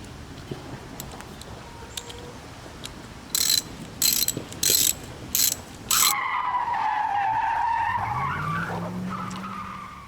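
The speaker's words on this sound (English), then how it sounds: "going to begin to tighten it by hand. And then I've got a socket here to help me in a minute." A socket wrench ratchet tightens hardware on an industrial-strength dog chain, giving five short, sharp bursts of clicking, followed by a longer whirring, scraping mechanical sound.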